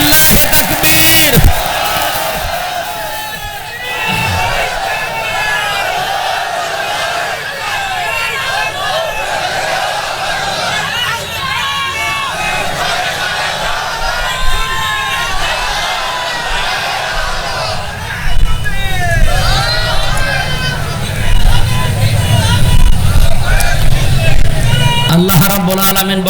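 A large crowd at an Islamic waz gathering roars a takbir response in unison, loud and close, with bellowing voices and shouting over the preacher.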